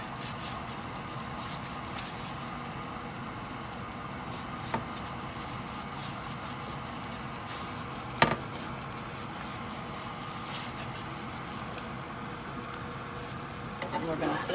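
A ghee roti cooks on a hot pan after being flipped and brushed with ghee. It gives a soft, steady sizzle with light crackling, broken by a few faint clicks and bumps, and no one speaks.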